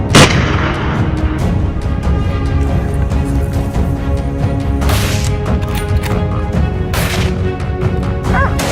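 Rifle shots ring out loud and close outdoors during crocodile and wild boar control on an American farm, several sharp cracks spaced a second or two apart over a dense, noisy background.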